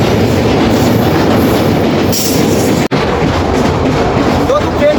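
A train crosses a new bridge over the Meghna river near Bhairab, a loud, close rumbling roar with rhythmic wheel clatter, a faint squeal and a brief break near the middle.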